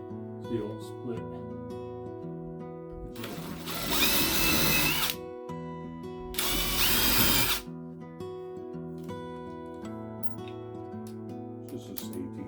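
A power drill with a bit, used in a home garage while fitting a door knob, whirs loudly in two bursts of a few seconds each, close by, over a steady background tone.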